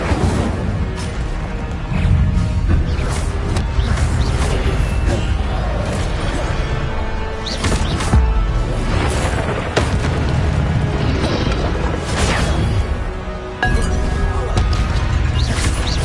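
Incendio fire spells cast in Hogwarts Legacy, a dense, loud barrage of booming, crashing bursts that come in quick succession over a constant roar of game combat.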